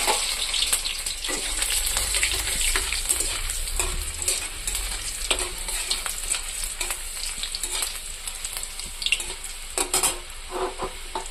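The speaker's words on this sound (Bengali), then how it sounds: "পেঁয়াজ ভাজা হয়ে গেছে, রসুন তখন দিয়ে দেবো শাক" Onions fry in a pan with tomato and dried chilli while being stirred, a steady bright sizzle running throughout with intermittent scraping and clinks of the spoon against the pan, close and continuous with no talking.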